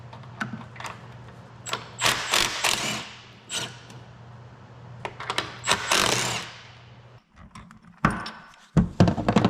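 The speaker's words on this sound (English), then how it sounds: "let's pull off the valve cover and see what we can see" An engine valve cover being pulled off: close clanks, thunks and metallic rattles of tools and parts, with scraping and knocks in irregular bursts and short pauses, fairly loud.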